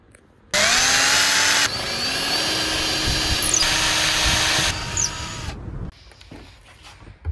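Power drill driving rivets into the metal floor of a DIY Sprinter van conversion: a loud, steady high-pitched whine that holds for about five seconds with shifting pitch, then cuts off, leaving faint rattles.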